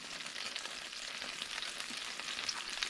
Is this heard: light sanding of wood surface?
no